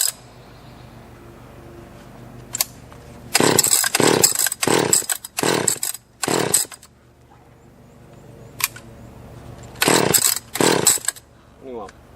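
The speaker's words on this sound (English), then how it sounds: "Very fuel efficient stock chainsaw." A stock chainsaw being pull-started near a tree in the woods, with several loud short bursts of engine sputter and revving separated by quiet gaps, close by.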